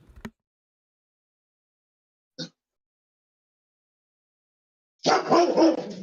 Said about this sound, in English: Calm down, Hope. Dog.